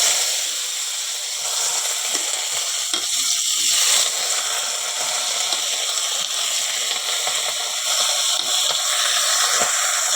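Vegetable chorchori with bitter gourd leaves fries in a wok, giving a steady, close sizzling crackle with occasional stirring scrapes and no talk.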